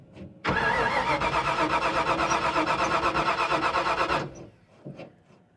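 A car engine, on a Mustang or Fairlane drag car, cranks loudly for about four seconds in a fast rhythmic chug, then the cranking stops and a short weak sputter follows, close up with no voices.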